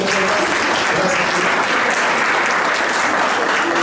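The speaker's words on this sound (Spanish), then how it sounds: "Denle un aplauso a los muchachos" A church congregation at a Sunday service claps for the young men who have just performed. The applause is loud, continuous and full, with faint voices under it.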